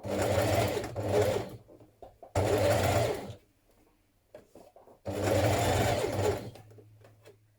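A sewing machine understitches around the neckline of a New Look 6483 blouse, running in three loud bursts of about a second or two each, separated by short pauses with faint handling noises.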